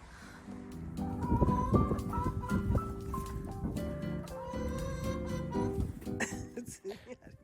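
Several chickens and other poultry call over one another in varied, wavering tones, with scattered clucks and squawks close by in a busy outdoor farm setting on a cold, frosty morning.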